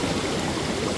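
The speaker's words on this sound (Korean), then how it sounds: "굴곡진 바위 사이로 흐르는 계곡의 모습이 정말 아름답더군요" Water in a mountain valley stream rushes between curved rocks, a steady, full broadband wash with no pauses, close and fairly loud.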